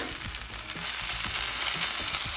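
Hash browns mixed with ham and onions sizzle steadily on a hot griddle, a continuous loud frying hiss with soft scraping and pressing thumps as the potatoes are folded and smashed down.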